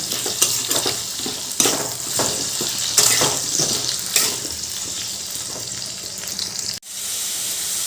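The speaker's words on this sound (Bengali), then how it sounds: "এবার আলুগুলো ভালো করে লাল লাল করে ভেজে নেবো" Potato pieces fry in oil with a constant close sizzle broken by repeated stirring scrapes and clatters, ending in a sharp knock and a short pause before the hiss resumes; no speech.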